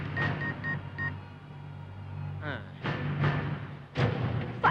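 Telephone keypad tones beep as a number is dialed to call the fire brigade during a city fire. A few short beeps are followed by thumps and a voice, with low background rumble throughout.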